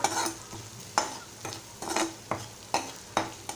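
A spoon stirs onion and chilli with salt and turmeric in a pan, making crisp scraping strokes about every half second over a faint sizzle, close and clear with no talking.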